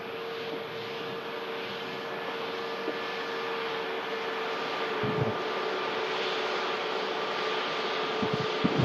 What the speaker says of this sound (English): Another A320neo just here at Manchester.